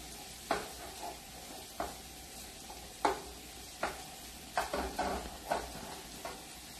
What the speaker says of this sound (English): let's give a little turn on the pasta